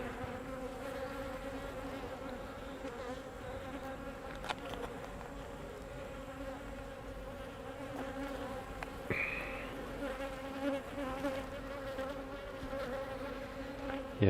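Honey bees buzz steadily around an open hive during an inspection of hive number 9, a dense, continuous insect drone with a few brief louder passes close by.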